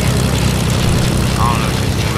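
An airplane flies in the Fortnite video game, with a loud, steady propeller and engine drone filling the whole clip and no pauses.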